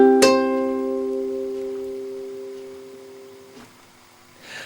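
A single chord strummed on a classical guitar rings out clearly and alone, its sustained notes slowly decaying over several seconds in a quiet room.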